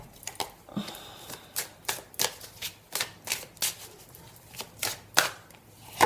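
A deck of cards being shuffled by hand in a quiet room, a steady series of crisp riffling bursts repeating about every half second, close and clear with no talking.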